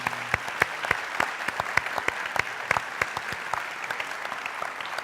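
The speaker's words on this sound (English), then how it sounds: "let's give a big round of applause one more time to our speaker" Audience at a university homecoming talk applauding a speaker, a steady patter of handclaps from a modest crowd, with a few louder claps standing out and tapering slightly toward the end.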